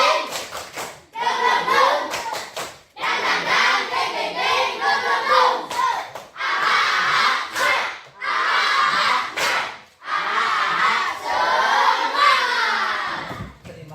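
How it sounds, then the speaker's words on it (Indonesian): Children at an Indonesian school assembly perform a 'tepuk semangat' clapping cheer, rhythmic bursts of hand claps mixed with shouted chanting voices, repeated in several loud phrases with short pauses between. "Tepuk semangat yang meriah."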